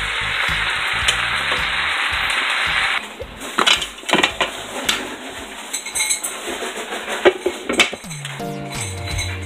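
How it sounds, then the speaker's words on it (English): A pot of cabbage cooks with a faint sizzle beneath close metallic clatter and clinks as the lid is handled and set on, ending in a few ringing knocks. "I'm gonna put the lid on this and let it cook some."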